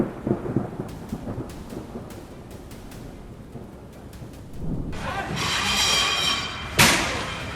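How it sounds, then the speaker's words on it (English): Steady rain hisses while sharp cracks of thunder break through during a night thunderstorm over Denver, ending in a loud, close crash of thunder. "Violent lightning tears across the sky over Denver, lighting up the night"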